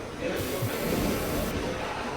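A spray can hisses in one continuous burst lasting over a second, close by, amid some background noise.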